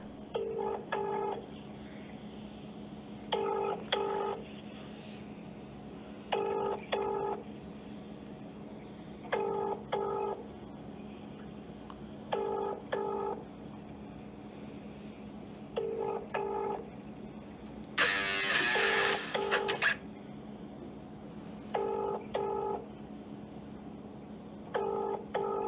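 A repeating ringback tone pulses in steady paired bursts on an unanswered outgoing phone call, moderately loud and close, with a brief burst of different tones in the middle.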